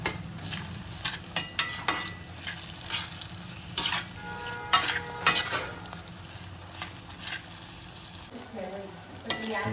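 Chopped tomato fries with onions in a pan, a soft close sizzle broken by repeated scraping strokes of a spoon stirring, uneven in rhythm.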